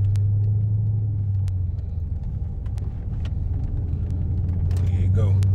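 A Chrysler 300 engine rumbles low and steady from inside the car, a deep drone that dips and swells slightly, with people talking over it.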